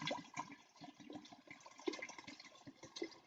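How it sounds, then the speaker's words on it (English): Flavored vodka poured into a pitcher of sangria, heard as a continuous close gurgle and splash of liquid with irregular glugging bursts throughout. "next we're going to add our flavored vodka, which can also just be poured in"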